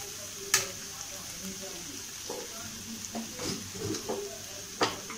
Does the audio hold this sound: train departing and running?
no